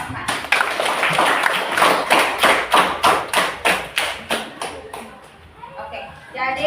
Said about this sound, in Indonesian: Mari kita berikan aplaus untuk kelompok 4.